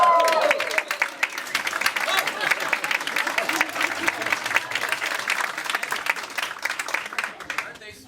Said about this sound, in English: That's the applause